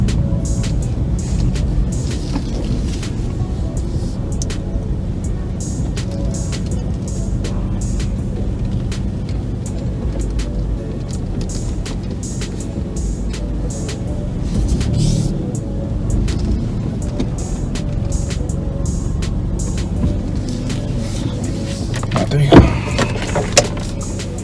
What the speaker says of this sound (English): Okay, just reverse around this corner.